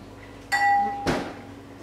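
A pint glass clinks once with a bright ringing tone that sustains briefly, followed by a louder knock or set-down of glass against a hard surface in a quiet kitchen.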